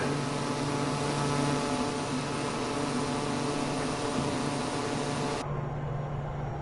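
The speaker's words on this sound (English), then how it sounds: "Again, flying my PC-12" A Pilatus PC-12 NGX turboprop engine drones steadily in Microsoft Flight Simulator 2024, a continuous moderate hum with a constant tone, its bright upper hiss dropping away near the end, no talk.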